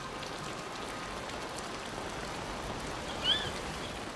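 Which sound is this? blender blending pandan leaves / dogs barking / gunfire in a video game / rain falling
rain falling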